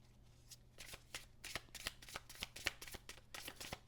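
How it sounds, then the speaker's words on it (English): A deck of animal spirit cards being shuffled close up, a quick run of soft papery riffles and flicks in a continuous flutter, fairly quiet with a faint steady hum beneath. "let's pull some animal spirit cards for you"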